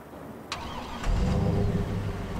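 A vehicle engine in Farming Simulator 22 cranks with a short sharp whir, then catches and settles into a steady low rumbling idle.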